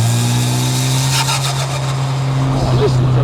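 A Porsche 718 Spyder RS or Ariel Atom 4R engine drones steadily on a snowy road, its loud, close tone shifting near the end as a downshift blip briefly lifts the revs, with a voice speaking over it.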